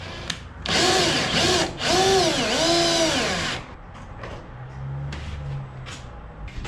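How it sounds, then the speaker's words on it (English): Power drill whining at high speed, rising and falling in pitch as it drills out old rivets from an Airstream trailer, loud and close for about three seconds, then quieter handling knocks and a brief low hum. "screwing out the old rivet"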